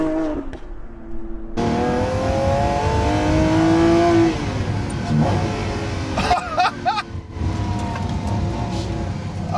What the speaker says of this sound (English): I just want to hear that engine again.